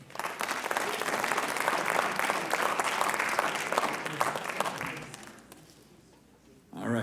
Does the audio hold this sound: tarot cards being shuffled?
no